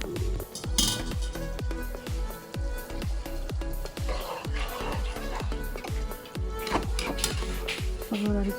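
Broccoli being stirred in a pan with a utensil, rhythmic scraping and clinking strokes of metal against the pan repeating steadily, with a soft sizzle underneath.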